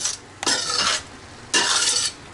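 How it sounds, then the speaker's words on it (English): Onions sautéing in a pan: two distinct stirring strokes, each a short scraping rush over a faint background sizzle, close and fairly loud with a quiet pause between them. "we're just going to kind of saute this until those onions are"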